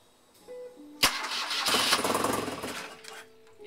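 A BMW motorcycle engine cranks with a sharp click and brief whir, then fires and catches into a rough, rising idle that gradually settles, heard close up with no talking.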